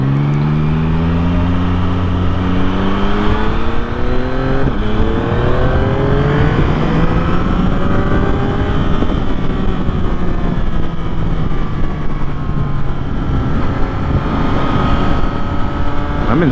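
A 2024 Yamaha MT-09 engine pulls hard in second gear, its steady loud roar rising in pitch through the revs over a long sustained run, with wind rush throughout.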